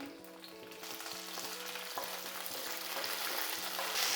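Mustard seeds, urad dal, cumin and curry leaves frying in hot oil for a Tamil drumstick thokku, a steady close crackling sizzle with sputtering pops and a low rhythmic scraping stir underneath, growing slightly louder toward the end.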